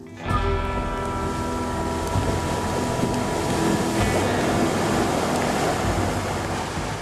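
A steady, loud rush of churning water and engine rumble, continuous throughout with no voices.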